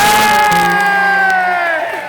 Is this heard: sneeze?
no